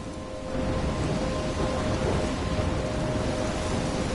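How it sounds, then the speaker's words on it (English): Steady heavy rain pours with deep thunder rumbling under it, a continuous loud storm in the video game Life is Strange. "I'm trapped in a storm?"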